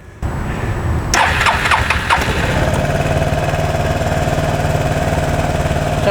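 A motorcycle's engine cranks and fires into life while it is being loaded onto a ramp-and-rack carrier, then settles into a steady, close, throaty idle with no talking.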